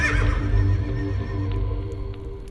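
A horse whinnies in a loud, close, high trembling neigh that fades out over a couple of seconds.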